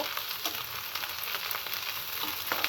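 Pointed gourd and onion fry in mustard oil in a pan, giving off a soft, continuous sizzle with faint crackles and occasional stirring scrapes, fairly quiet and with no talk.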